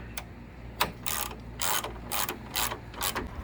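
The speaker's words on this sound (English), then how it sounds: "But let's not forget to tighten up our bolts." Close, crisp ratchet clicking comes in short, uneven bursts as bolts are tightened on a 2001 R50 Nissan Pathfinder 4X4, with no talking.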